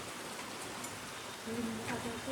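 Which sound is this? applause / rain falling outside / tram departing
rain falling outside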